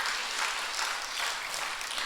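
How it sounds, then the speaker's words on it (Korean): Congregation clapping during a Sunday evening church service, a brief steady wash of applause filling the sanctuary. "박수로."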